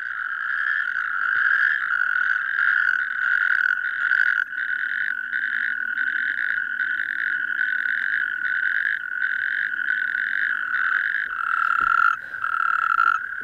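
A dense chorus of natterjack toads, many males calling together in continuous loud rattling trills that pulse and overlap without pause, close and alone.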